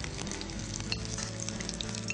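Food sizzling and crackling steadily in hot oil, a close, continuous frying hiss with small pops, no voices.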